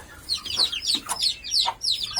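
A Gurk hen, a mother separated from her chicks, clucks repeatedly in quick bursts, close and fairly loud, with no talking.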